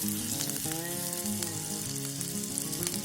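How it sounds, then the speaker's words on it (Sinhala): Garlic frying in hot oil for a spicy Sri Lankan fish curry, a steady, loud sizzle that runs without pause, with no talking. "මේ වෙලාවේදී මම ඒකට සුදු ලුණු ටිකක් එකතු කරගන්නවා"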